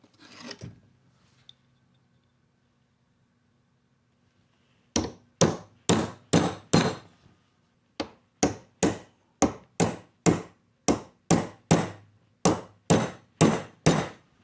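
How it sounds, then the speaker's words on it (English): A hammer drives a punch against a small anvil built into a vise: after a few quiet seconds come about twenty sharp, ringing metal strikes in a steady, evenly spaced rhythm, close and loud, with brief pauses between bursts and no talking. "we'll take a punch and a hammer, and using our nice vise anvil here"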